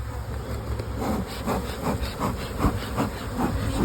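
Honey bees buzz inside an opened single brood chamber hive, a steady close hum with faint rhythmic hissing throughout and no talk.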